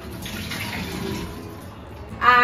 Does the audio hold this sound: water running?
yes